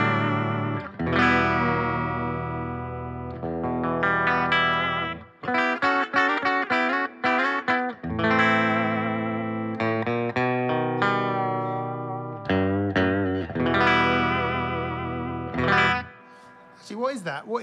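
Stella two-tone sunburst guitar with a 12-inch radius, a single P90 pickup and a Bigsby, played clean: strummed chords and single-note runs ring out with a few brief gaps, close and fairly loud.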